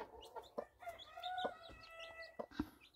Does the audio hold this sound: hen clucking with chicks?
yes